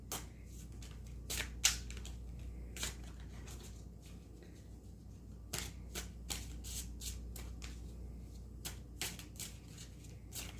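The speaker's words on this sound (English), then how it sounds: "I'm going to go take some time and go ahead and shuffle these cards" Tarot cards being shuffled by hand, quiet riffling and papery flicks in irregular bursts over a low hum, fairly faint with no talking.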